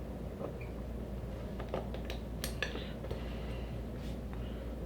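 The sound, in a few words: pushing the sear pivot pin out of a Sig Sauer P365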